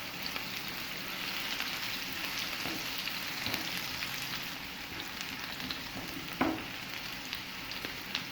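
Chopped onions softening in a hot pan as the base for a chicken bun filling, giving a steady, dense sizzle throughout with a faint clink of stirring near the end.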